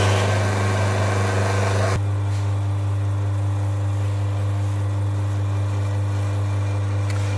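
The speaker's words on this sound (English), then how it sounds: "So there's our coffee extracting, and it's coming through a little bit on the slow side" A Vibiemme Domobar E61 espresso machine extracting coffee gives a loud, steady vibratory pump drone throughout, with a brighter hiss over it for the first two seconds.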